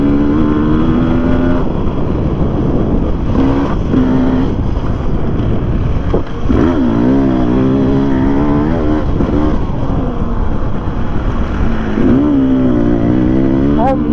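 Motorcycle engine pulling hard and accelerating on a group ride, loud sustained drone with rising pitch sweeps as gears change, close up with wind rush throughout.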